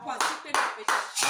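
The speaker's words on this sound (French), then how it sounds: "Applaudis pour le Seigneur." Congregation clapping in a church service, three or four loud bursts of hand claps in quick succession with short gaps, voices mixed in among the crowd.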